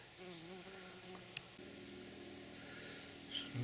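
Close, faint buzzing of bees in a midsummer garden, several droning tones shifting in pitch as they fly about, continuous and unaccompanied by voices.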